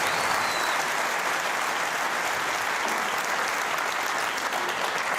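The Crucible crowd at the 2014 World Snooker Championship semi-final applauds a century break, a loud, even, continuous wall of clapping from a packed arena, sustained throughout without voices on top.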